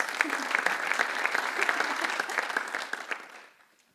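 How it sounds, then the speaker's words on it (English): Steady applause from an audience, fairly close, sustained for a few seconds before fading out. "An applause, yes."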